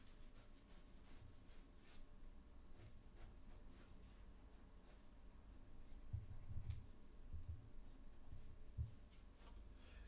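A pencil sketches and rubs steadily over paper while cleaning up a car drawing's lines, a soft, close scratching that runs throughout with a few firmer strokes near the end.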